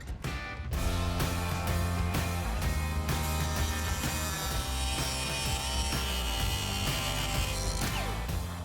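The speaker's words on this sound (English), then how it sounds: "Okay, so now we have to cut this." Metal being cut with a hand saw or tool for a lead sled custom car build, a steady continuous rasping cut running loud and close throughout with dense harmonic ringing.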